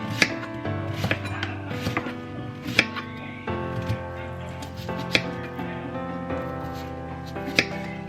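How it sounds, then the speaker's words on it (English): Knife chopping onions on a cutting board in a home kitchen, steady repeated cuts with occasional sharper knocks, close and clear over a light background hum. "As I cut these onions, I'm adding them to my skillet"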